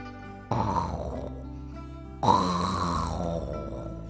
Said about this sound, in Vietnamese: hiện ngáy pho pho ở phòng khách, chìm vào giấc ngủ mê mê màng màng